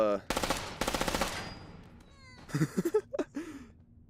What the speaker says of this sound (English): Hearing like tons of gunfire.